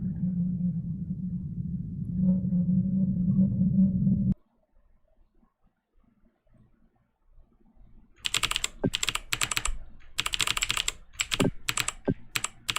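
A low steady hum stops abruptly, then after a short quiet gap comes rapid, clattering keyboard typing in uneven bursts, close and fairly loud.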